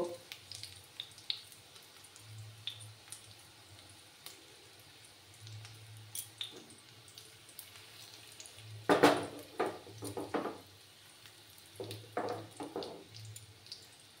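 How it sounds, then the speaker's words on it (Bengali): Sabudana vadas frying in oil in a pan over a low gas flame, with faint scattered sizzling and a few louder bursts of crackle and clatter partway through, no talking. "এভাবে সেম প্রসেসে আমি এগুলো ভেজে নেব"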